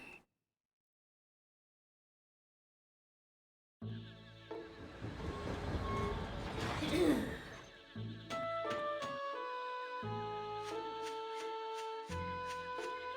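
A train in the video game Dark Chronicle: after a silent start, a rumbling, rushing passage swells to a sharp whoosh midway, then gives way to sustained ringing tones.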